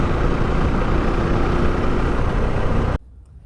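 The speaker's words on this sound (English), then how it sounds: "It's a pretty loud exhaust note." Loud, steady exhaust note from an FB Mondial HPS 300 motorcycle lugging at low RPM in a low gear, a dense rumbling drone for about three seconds before cutting off abruptly to near silence.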